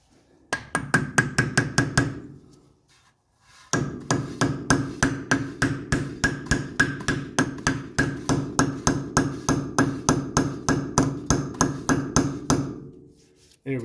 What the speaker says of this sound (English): We'll go ahead and put our grease cap back on.